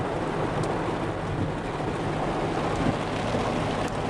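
Steady rain patters against a fogged-up window, a dense, continuous wash of drops with no talking over it.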